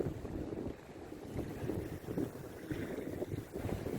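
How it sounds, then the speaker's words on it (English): A sailboat runs with the wind nearly on the beam on a cruise to the Isles of Scilly: a steady rush of wind over the microphone blends with water washing along the hull, constant and fairly loud. "So the wind is coming in nearly on our beam, just a little forward of beam, and seems to be running well."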